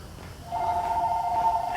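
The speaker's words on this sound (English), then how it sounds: "Hang on, phone's ringing." A landline telephone rings in a motorcycle repair shop, a steady electronic ring that starts partway in and holds continuously over a faint background hum.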